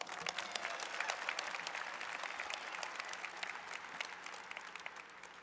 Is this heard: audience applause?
yes